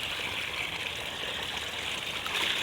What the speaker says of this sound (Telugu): చూడండి ఎలా పొంగిపోతున్నాయో నదిలైతే తీసుకున్నాను